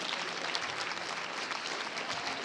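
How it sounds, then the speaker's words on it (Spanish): An audience at a youth civil society dialogue event applauds with steady, dense clapping that continues evenly throughout at moderate volume. "por favor, un aplauso"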